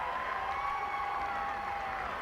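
Rugby supporters of Bicton cheering at a schools championship final after an interception, a sustained crowd roar with whoops and clapping, distant and continuous with no clear talk.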